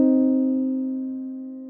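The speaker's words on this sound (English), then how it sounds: "if we move up one more half step from our major second, we'll get to the minor third interval" A sustained minor third interval rings out as two steady tones held together, clean and fairly loud, gradually fading over a couple of seconds with nothing else present.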